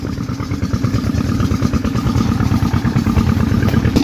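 A village tubewell pump engine runs nearby with a loud, steady, rapid thumping clatter, like a single-cylinder engine at constant speed, with no voices over it.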